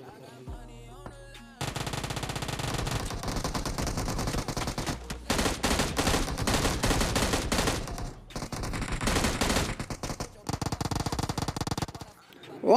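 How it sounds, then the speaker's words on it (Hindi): Heavy automatic gunfire in the mobile game PUBG at Pochinki, loud sustained bursts broken by short pauses, with someone talking over it. "तभी हम लोग को ना यहाँ से फायरिंग आती है।"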